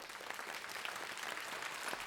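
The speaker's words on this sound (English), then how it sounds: "Let's all give Dr. Beaber a round of applause." Audience applauding a presenter after a medical talk on multiple sclerosis, a dense steady wash of clapping from many hands lasting a couple of seconds.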